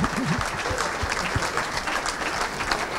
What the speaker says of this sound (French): On les applaudit très fort.